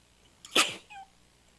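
A single sharp sneeze bursts out close by, followed by a brief softer vocal sound, then quiet.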